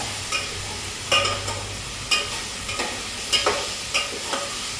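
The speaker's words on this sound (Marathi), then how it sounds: "चांगले भाजून घ्यायचं म्हणजे मग छान होतं. शेंगदाणे थोडे टाकून घ्यायचे." Cauliflower and peanuts fry in a pan for spiced rice, a constant sizzle broken by regular scraping stirs every second or so, close and loud with no voices.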